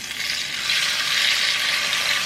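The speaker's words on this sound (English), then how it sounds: "my oil is hot and it's time to get the pork on the way. I'm gonna fry it up a little" Pork frying in hot oil for Jamaican-style stew pork, a loud, dense, continuous sizzle heard close up with no voices.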